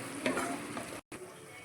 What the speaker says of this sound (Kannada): ಇವಾಗ ಎಲ್ಲವನ್ನು ಒಟ್ಟಿಗೆ ಮಿಕ್ಸ್ ಮಾಡ್ಕೊಳ್ಳೋಣ.